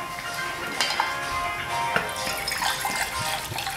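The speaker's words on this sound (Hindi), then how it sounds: "इसमें हम पानी डाल देंगे सबसे पहले," Water is poured into a pan on a lit gas stove while making soya bean paratha, a soft continuous pouring and splashing close by with faint background kitchen noise.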